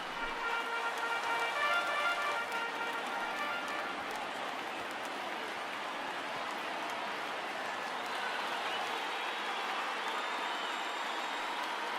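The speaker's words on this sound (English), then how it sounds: "Now this small but vocal crowd come to their feet." In the baseball game MLB The Show 19, a stadium crowd cheers and applauds in a steady, dense roar that holds at a constant loud level throughout, with no clear voices on top.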